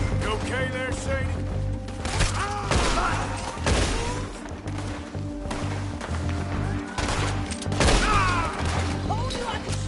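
Gunfire in the Western game Red Dead Redemption 2: repeated sharp shots and cracks in irregular bursts across a busy shootout, mixed with clattering impacts while voices speak throughout.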